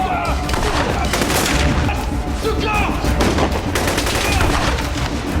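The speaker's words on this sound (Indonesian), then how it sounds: "3 perampok itu langsung melesatkan tembakan hingga terjadi peperangan" Sustained, rapid gunfire crackles nonstop, a dense barrage of shots overlapping with booming action-movie intensity.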